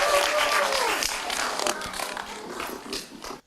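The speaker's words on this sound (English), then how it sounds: "give him a round of applause for me, please" A crowd at a children's science show applauds a volunteer, lively clapping mixed with cheers and a voice that fades over a few seconds.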